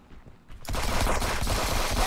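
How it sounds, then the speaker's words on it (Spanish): After a brief quiet moment, loud rapid video game gunfire bursts in and keeps going as a dense, continuous volley of shots. "Escucho disparos"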